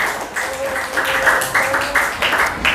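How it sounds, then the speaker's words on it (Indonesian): A group of students claps steadily in a continuous patter of applause in a classroom, with voices faintly mixed underneath. "Tepuk tangan dulu untuk kelompok 3."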